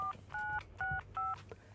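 Telephone keypad tones dial Orange customer service, four clean evenly spaced beeps at moderate volume with short gaps between them and a faint hum underneath.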